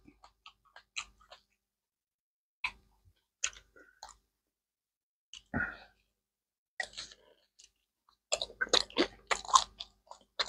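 Hmong egg rolls dipped in spicy peanut sauce crunch between the teeth in close, quiet bites, separated by pauses and ending in a denser run of crisp chewing.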